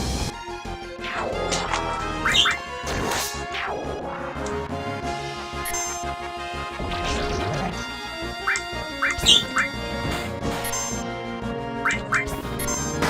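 A pet bird named Valor squawking in its cage, sharp scattered squawks and calls breaking over a background of video game music, with a person talking in between.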